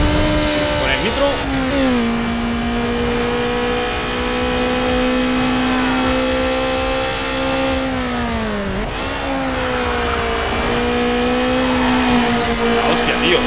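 A race car in Need for Speed Underground 2 roars up fast from behind, a Subaru among the cars, with a sustained high engine drone that swells and dips over several seconds while speech murmurs beneath.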